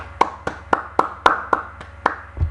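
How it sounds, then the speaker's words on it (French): A single person claps his hands about eight times in a steady, evenly spaced rhythm, sharp close slaps heard alone over a faint low hum. "Bon, je m'applaudis moi-même."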